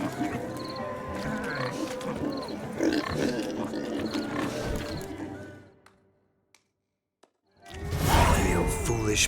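Pigs grunting and snorting in a penned farm yard in The Witcher 3, close and fairly loud, mixed with game ambience and a brief voice, dropping to near silence before a loud burst of noise at the end.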